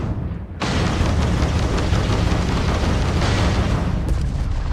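Missile explosions in the Starfield space combat game, a loud, sustained roaring blast that kicks in abruptly after a brief quiet moment and rumbles on steadily without pause.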